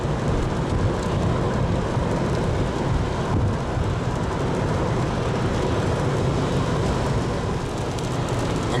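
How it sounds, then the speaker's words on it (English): Steady, dense roar of a heavy rainstorm in the Harrisburg, Pennsylvania area with low rumbling, continuous and loud throughout, no voices. "Got quite a storm going out there."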